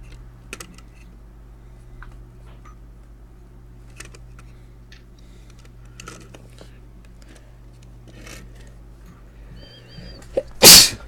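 A single loud, close sneeze bursts out right at the end after a long quiet stretch of faint indoor background hum and occasional small taps and clicks.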